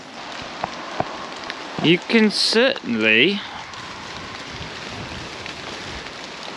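Steady rain falls outdoors on a wet day in England, a constant broadband hiss that runs under a few seconds of nearby speech and carries on alone afterward.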